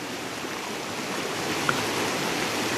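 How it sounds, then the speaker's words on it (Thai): Clear stream water flowing around a person standing mid-stream at a campsite by a canal in Nakhon Nayok, a constant loud rushing wash with no talk. "นี่ครับตอนนี้ผมยืนอยู่กลางลำธารเลย"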